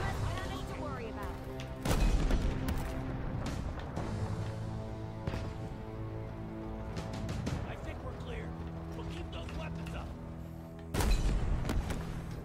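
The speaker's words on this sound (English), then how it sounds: "Might as well stay clear of the impending explosions." Gunfire and heavy explosions from the Halo Infinite video game, with repeated sharp blasts and two big booms standing out over a busy mechanical and musical background, while a voice talks at points.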